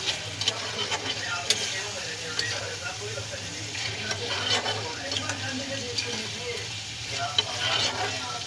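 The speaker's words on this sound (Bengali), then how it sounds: "তার আগে আমি একটু গোলমরিচ ছিটিয়ে দিলাম, দিয়ে নেড়ে চেড়ে নামিয়ে দেবো।" Meat cooked in milk and sprinkled with black pepper is stirred in a pan: a soft, steady sizzle with repeated scraping and light clinks from the utensil against the pan, close up.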